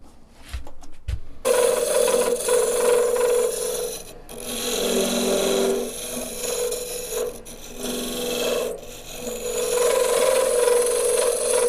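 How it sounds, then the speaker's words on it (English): A skew chisel used as a negative rake scraper against wood spinning on a lathe, producing a sustained, loud rasping scrape with tonal ringing that swells and eases, after a short clatter at the start, with no talking. "I'm just going to use the skew as a negative rake scraper."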